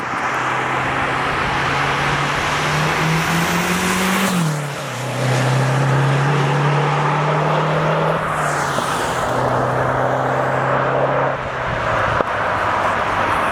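A stage 2 modified Mazdaspeed 3 with 22 psi of boost drives hard, its engine droning loud and close with a pitch that climbs and drops through shifts, and sharp pops mixed into the roar.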